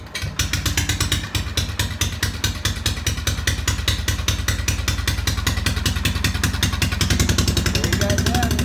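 Small engine-driven welder's engine running with only a little fuel in the bowl, a loud, close, rapid rhythmic chugging with a mechanical clatter that stays steady throughout.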